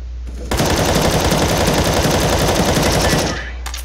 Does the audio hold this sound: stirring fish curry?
no